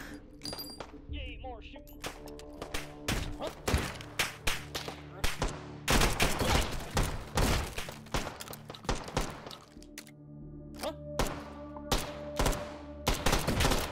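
Repeated gunshots from weapons in the VR shooter H3VR, fired as single cracks and rapid bursts with irregular pauses over about fourteen seconds, loud and close, with someone talking intermittently between volleys.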